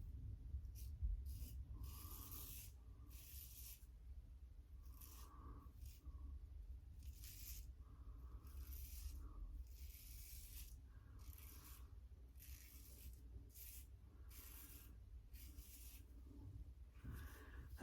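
A kamisori straight razor scrapes across stubble in short, faint strokes repeated at a steady pace, close and quiet with no talking.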